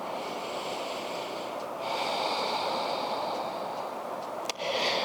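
Slow, deep breaths drawn through the nose during a vinyasa yoga pose, a steady close airy rush with a soft snort-like push near the end, no talking.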